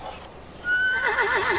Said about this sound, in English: The horse is so bloody loud